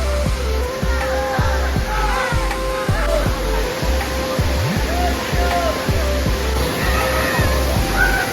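Rushing water from the Borjhora waterfall in Bongaigaon, swollen high after rain, pours in a steady wash under a crowd of visitors, with voices and a repeating low thumping rhythm running throughout.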